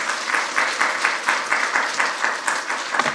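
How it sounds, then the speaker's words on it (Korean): Church congregation applauding to welcome a pastor to the pulpit, a steady, dense wash of many hands clapping in a large room, fairly loud and continuous with slight rhythmic swells, no voices over it. "우리 한번 큰 박수로 목사님 맞겠습니다."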